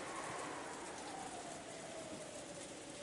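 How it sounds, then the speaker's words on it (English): Steady rain falls as a dense, even hiss with no distinct drops or breaks, constant and moderately loud, used as a sound effect in a fan-dubbed drama. "Maria's outstretched body, pounded by the rain"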